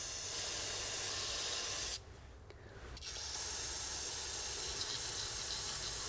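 Aerosol intake valve cleaner hisses steadily up close from a can sprayed into a Volkswagen GTI intake, pauses for about a second, then resumes in a long continuous burst.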